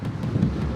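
Strong wind near Schiphol airport buffets the microphone in a low, rumbling, continuous roar for under a second, with no talk.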